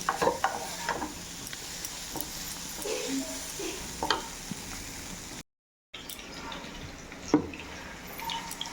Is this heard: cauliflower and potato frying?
yes